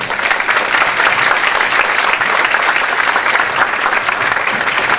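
An indoor audience at a business-strategy lecture on NLP breaks into loud, sustained applause to welcome the speaker, with a dense wash of clapping throughout.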